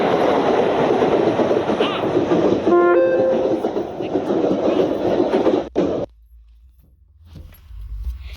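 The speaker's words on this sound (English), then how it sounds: "I will never let this car go until the train hits it." A train from the Indian Train Crossing 3D game roars past at close range, a loud steady rumble with a short horn-like tone, then cuts off abruptly into near silence.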